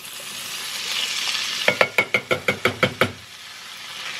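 Crushed red pepper flakes sauté in a pan with a soft, continuous sizzle. A quick run of about eight rhythmic knocks, like a utensil striking the pan, cuts through the middle.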